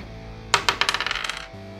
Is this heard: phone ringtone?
no